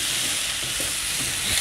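Sliced onions and bitter gourd sizzling and frying in a pan, a steady hiss with occasional soft stirring scrapes, close and alone without talk.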